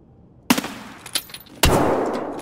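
Gunfire in the shooter Escape From Tarkov, played in PvE mode: two sharp close shots with a few quicker pops between them, then a loud final report with a long echoing tail, with no talk over it.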